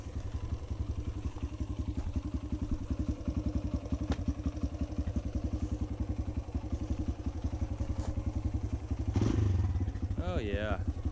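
A 2018 Kawasaki KLX140L pit bike engine runs steadily up close, a loud, fast, even single-cylinder chug throughout, with a brief rise in revs near the end and a voice speaking over it.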